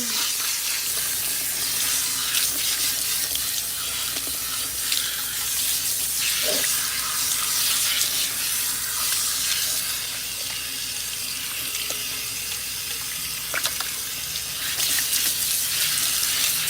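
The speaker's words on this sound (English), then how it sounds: "So we're now going to rinse her with cool water, our favorite part." Cool water runs steadily from a salon sink tap while hair is rinsed during a conditioning treatment, a continuous close splashing hiss with no talk over it.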